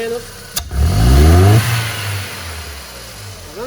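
A Ford Fiesta or Ka engine with a faulty fuel injector revs sharply once, rising and falling over about a second, then drops back to a steady idle; someone speaks briefly nearby.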